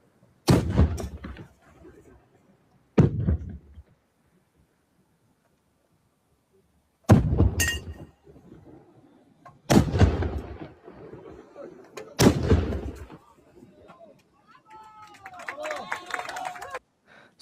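Milk can cannons, ignited to make loud booms that chase off winter spirits and welcome spring, fire in a series of five heavy blasts at irregular intervals, with a crowd murmuring between them.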